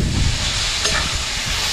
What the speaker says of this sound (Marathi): ही आता चांगली फ्राय करून घ्यायची